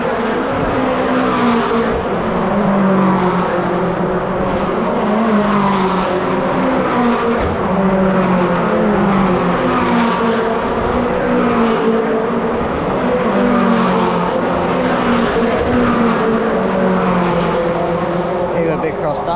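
V8 Supercars race cars at a Saturday track session, engines roaring loud and continuous with gear-shift sweeps and passing cars rising and falling, some tyre squeal, under excited commentary.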